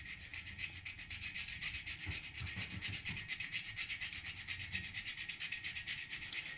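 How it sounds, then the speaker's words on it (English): A fine jeweler's file rasps back and forth on curved stainless steel trim from a 1955 Chevy Bel Air, a fast, steady run of close, quiet strokes with no voices. "This is a fine jeweler's file that you can get in a set."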